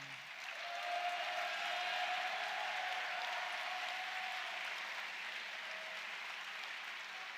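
Sustained applause from a large audience at a statewide youth mock-government election results assembly, a steady, even wash of clapping that holds at moderate level for several seconds without speech.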